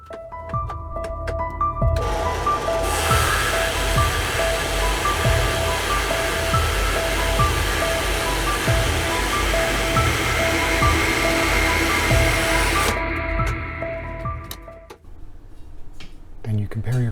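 A variable tooth band saw making a test cut through a workpiece: a loud continuous whirring cut lasting about ten seconds, with a faint rhythmic ticking before and after as the blade runs, then winding down at the end.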